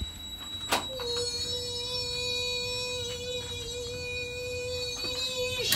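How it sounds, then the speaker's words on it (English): A steady electronic tone from an electronic toilet sounds continuously over several seconds, with sharp clicks at the start and end, close and fairly loud against a quiet room hum. "This constant beeping. They beep, beep, beep, beep."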